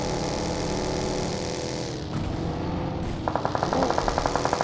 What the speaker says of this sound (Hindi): गाड़ी जा रही है गाड़ी जा रही है